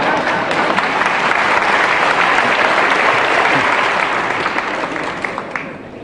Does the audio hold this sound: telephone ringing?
no